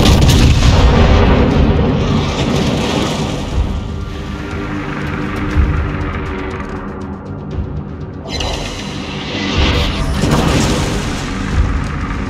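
Iowa battleship main guns firing in World of Warships, heavy booming salvos that roll into long rumbling echoes, loud and close, with several blasts overlapping across the stretch.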